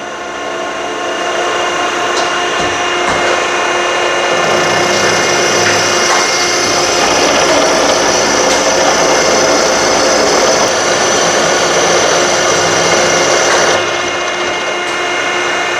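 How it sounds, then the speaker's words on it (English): A custom-built factory machine reams out the base of a spring compressor in South Korea, grinding and whirring loudly and steadily for the whole stretch, with faint clicks and ratcheting running through it. "you can see they're fixing to go ahead and ream that base out to the diameter that they need"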